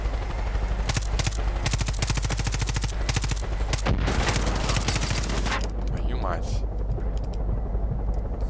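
Enemy gunfire in Far Cry 5: rapid, dense machine-gun bursts rattle loudly for several seconds over a steady aircraft-like drone, then break off into quieter rumble.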